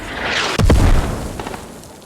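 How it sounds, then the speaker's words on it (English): Mortar shells landing in Squad on the Logar Valley map: a sharp, heavy explosion erupts after a whooshing approach, followed by a rumbling tail and a couple of fainter thuds. "this is ARK mortars landing on the south side of DC"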